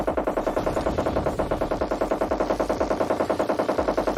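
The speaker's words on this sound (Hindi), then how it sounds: "हंगामा ही मचा रखा है लौंडे ने गोली चला के" Video-game gunfire: a rapid, evenly spaced stream of loud automatic shots, roughly five bursts per second, continuing without pause from start to finish.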